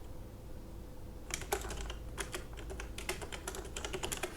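Quick keystrokes on a computer keyboard as a terminal command is typed, a close run of light clicks starting after a quiet second and continuing in an uneven patter to the end.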